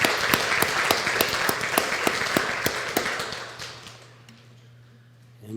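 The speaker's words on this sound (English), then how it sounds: "I want to give you a round of applause" Audience applause at a county fiscal court meeting: steady clapping from a modest crowd for about four seconds, then fading out, leaving a quiet room hum.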